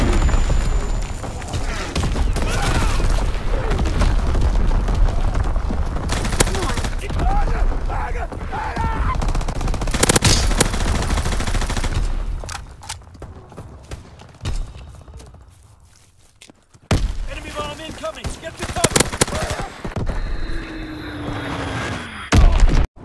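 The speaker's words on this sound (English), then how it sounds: "Incoming enemy artillery!" Enemy artillery and gunfire in a war video game, a dense, loud wash of booms, thuds and rattling fire that briefly dies down before resuming.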